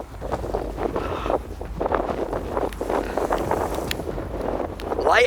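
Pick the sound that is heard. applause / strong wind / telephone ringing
strong wind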